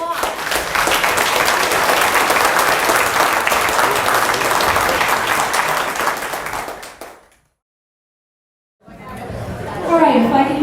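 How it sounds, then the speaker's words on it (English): A crowd at a political candidates' forum in Superior, Montana gives a dense, sustained round of applause for about seven seconds. It cuts off into silence, then a voice begins talking. "I feel they deserve a round of applause."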